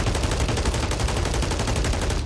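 SMG gunfire in Call of Duty Warzone, a continuous rapid automatic burst of loud, dense shots filling the whole moment without pause.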